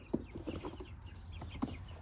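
Young chicks being carried out for a walk cluck and peep in short, scattered calls at close range over faint background noise.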